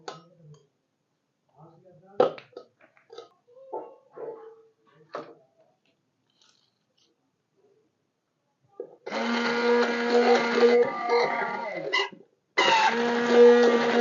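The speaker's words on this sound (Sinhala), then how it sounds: "හාල් පිටි දාලා අපි මේක බ්ලෙන්ඩ් කරගන්නයි තියෙන්නේ." Blender mixing an egg and rice flour hair mask, whirring loudly and steadily for a few seconds, pausing briefly, then starting again, after a stretch of quiet speech.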